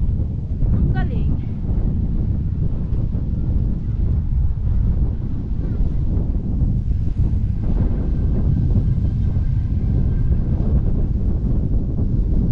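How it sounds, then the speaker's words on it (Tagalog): Strong wind buffets the microphone in a loud, constant low rumble during a summer bike ride, with voices talking briefly beneath the gusts. "Ang hangin naman. Grabe hangin."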